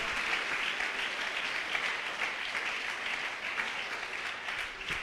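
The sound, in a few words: church congregation applauding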